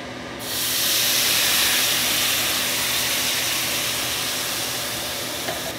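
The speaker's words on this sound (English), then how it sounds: "So we're gonna need to deglaze, so I have here 1/4 cup each of brandy and white wine." Brandy and white wine poured into a hot pan to deglaze it burst into a loud broad steaming hiss that starts abruptly and holds steady while slowly fading, with no talk over it.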